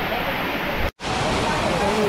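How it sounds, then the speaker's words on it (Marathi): Waterfall with water rushing forcefully down over rocks, a loud continuous roar of broadband noise heard up close, broken by one brief dropout partway through. "इकडे वॉटरफॉल आणि इकडे वॉटरफॉल."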